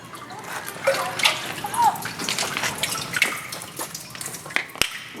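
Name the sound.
water running from a tap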